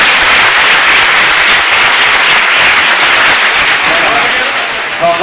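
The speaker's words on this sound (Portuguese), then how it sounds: "Dê uma linda salva de palmas para Deus." A church congregation gives a loud, enthusiastic round of applause during a service, close and dense clapping that stays strong throughout and eases slightly near the end, with voices mixed into the noise.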